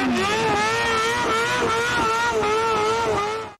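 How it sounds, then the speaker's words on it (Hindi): Motorbikes brought by young riders to an auto show roar loudly, engines revving in wavering, sustained tones that rise and fall together before cutting off abruptly at the end. "शो में मोटर बाइक लाने वाले नौजवान भी खूब शोर शराबा करते हुए नजर आए"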